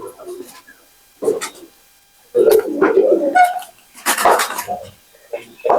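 Pakistani pigeons coo in short bursts while a person talks intermittently close by, the calls and voice alternating across several seconds.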